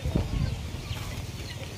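Chickens and roosters on a provincial farm cluck faintly at dusk, soft scattered calls in a quiet yard, ending with a brief sharper squawk.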